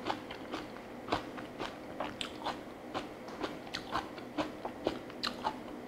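Repeated crisp crunching bites into raw napa cabbage, close to the mic, with irregular sharp crackles and soft chewing between them.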